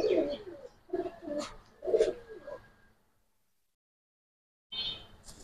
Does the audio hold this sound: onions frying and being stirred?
no